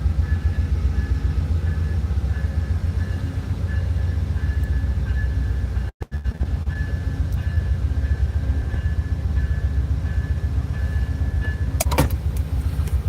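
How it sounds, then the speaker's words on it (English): A train rolls past at a rail crossing in Louisa, Virginia, a loud, continuous rumble with rhythmic clatter of wheels over the rails, a short break midway and a sharp metallic squeal near the end. "Another train coming in."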